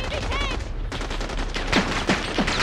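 Rapid gunfire in the video game Modern Warfare: a dense, continuous fusillade of automatic shots crackling loudly throughout, with overlapping bursts and no pause.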